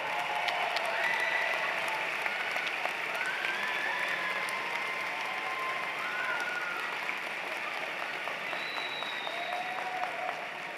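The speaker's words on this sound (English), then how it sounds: "let's give a round of applause to those others who made it happen" A seated audience at a Florida Gulf Coast University spring commencement ceremony for the business and education colleges applauds family and friends of the graduates, with steady, dense clapping filling the hall for the full stretch and slowly thinning toward the end.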